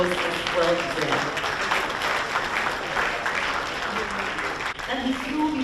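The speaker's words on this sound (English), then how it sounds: "This round of applause is well deserved." A room of guests at a Justice for All awards dinner keeps clapping in an even, continuous wash of hands, with some talking mixed in beneath the applause.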